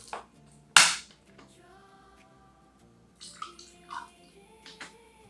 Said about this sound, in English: I'm just adding water